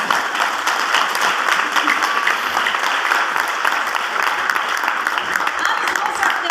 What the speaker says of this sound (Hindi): एक बार मेरे गुरु मलिक सर के लिए बहुत जबरदस्त तालियां बजाएं।